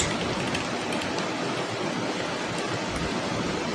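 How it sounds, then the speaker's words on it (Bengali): Rain falls steadily in a Bangladeshi bus driving video game, a dense, even hiss of downpour that stays constant and fairly loud with no talk over it. "আর বৃষ্টি চলে আসলো।"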